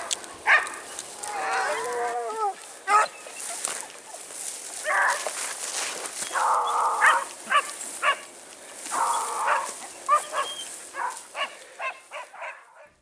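A pack of Ariégeois hounds bays and yelps while trailing a hare through woodland, voices overlapping in bursts of varied pitch, some close and some farther off, with rustling movement between cries.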